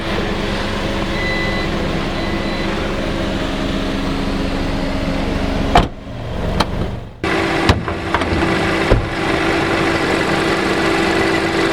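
A 2022 Geely Azkarra Luxury's 1.5-liter turbocharged three-cylinder engine idles close and loud with a steady droning hum, broken by a few brief abrupt dropouts.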